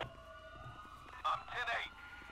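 Police sirens in the GTA V video game with the LSPDFR police mod, a wailing tone rising and falling at moderate distance, with a brief louder burst midway while a voice talks.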